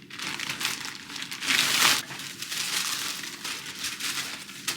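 A long-awaited parcel is opened by hand without scissors, giving a run of close plastic crinkling and rustling with a louder tearing burst partway through, no talk.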